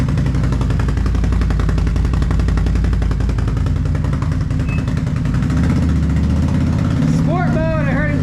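Can-Am Renegade 1000 ATV fitted with a Yoshimura exhaust rumbles steadily throughout in rainy weather, its low engine note continuous and loud, with people talking over it and a higher whining sweep near the end.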